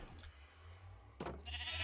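Sheep bleat in a Minecraft sheep pen in a Feed The Beast modpack game, with a short synthetic bleat in the middle, another starting at the end, and a low steady background hum, faint and without talk.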